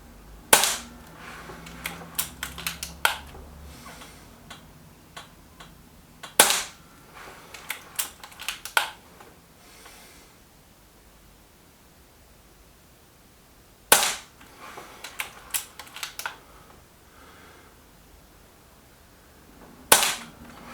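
An Air Arms S510 air rifle fires JSB Hades diabolo pellets, five sharp, fairly loud cracks spaced several seconds apart, with quieter clicks and handling noises of cocking and loading between shots and no voices.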